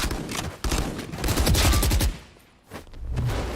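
Gunfire during a Valorant esports match, rapid bursts of automatic shots in close succession, loud and dense, with a short lull before another volley.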